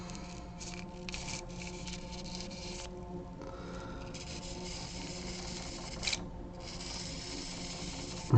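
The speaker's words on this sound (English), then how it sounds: "Or corners, crevices. It's hard to get in there and sand that." Steady dry rubbing of sandpaper worked into the corners and crevices of a sculpted Godfrey figure from Elden Ring, a continuous close scratchy texture with brief pauses and no talk.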